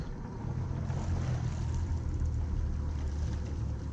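A fishing boat's engine drones steadily out on the water during sea bass fishing, a loud continuous low rumble with wind and water noise and no clear change in pitch.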